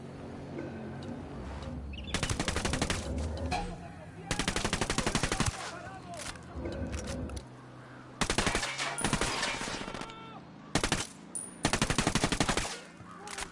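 Machine gun fire in the shooter game Ghost Recon Wildlands, loud sustained bursts of rapid automatic shots broken by short pauses, with a voice urging the team on between bursts.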